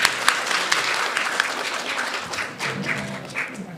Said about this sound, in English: Let's have one more round of applause for all of our grade 7 to 8 category